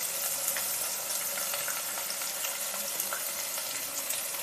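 Onions and green chillies tossed into hot tempering oil for a kaara bath breakfast, giving a steady, bright sizzle close up, with light stirring scrapes and no talk.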